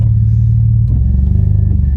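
A naturally aspirated V6 in an Alfa Romeo 147 GTA rumbles steadily, loud and close, with a deep even drone and no voices over it.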